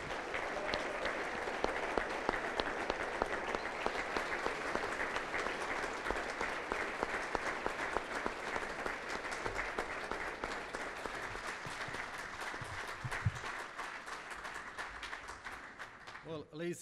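An audience at a Sarajevo Talks event in Sarajevo gives a sustained round of applause at the close of a talk, dense clapping filling the room for over fifteen seconds, with some voices mixed in before it tapers off at the end.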